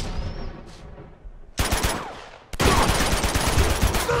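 Gunfire in Uncharted 2: Among Thieves on PS4, quiet at first, then two abrupt loud bursts of shots near 1.6 and 2.5 seconds, the second sustaining into dense, continuous firing.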